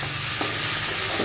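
Ginger, garlic, chilli and cumin paste with chilli powder, turmeric and meat masala hit hot oil in a pan, giving a loud, close, continuous sizzle with scraping stirs and no voice.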